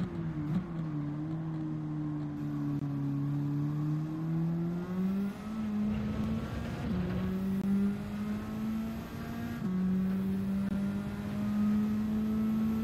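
Race car in Gran Turismo 7 driving a track with a right-hand hairpin: a steady engine drone rising and falling with shifts, dipping as the car brakes for the corner, then building again, loud and continuous with no talk.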